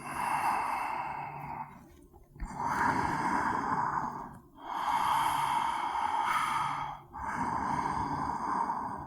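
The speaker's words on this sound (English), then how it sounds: "5 deep breaths." Slow, deep breathing from a person holding a yoga pose, three long drawn-out breaths with clear gaps between them, close and loud with no speech.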